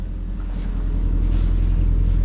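A 1971 Datsun 510 engine fitted with a Weber 32/36 carburetor runs at a steady idle, its low rumble close and continuous with no exhaust pipe fitted due to a leak.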